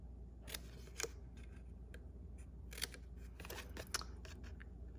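Scissors make a series of crisp snips through a paper box, cutting off its corners and middle tabs. The sharp cuts come in irregular bursts over quiet room noise, with no talking.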